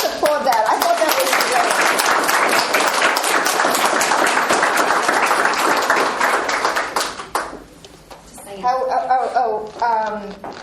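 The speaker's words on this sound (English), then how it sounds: "So let's just applaud that." An audience applauds after an author's reading at a university visiting writers series, dense sustained clapping filling the room for about seven seconds before it fades and a voice begins talking.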